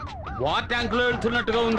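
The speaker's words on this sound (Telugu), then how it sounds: "సైరన్ సౌండ్ అండి." A vehicle siren wails on a highway, rising and falling tones blaring loudly and close while someone speaks over it.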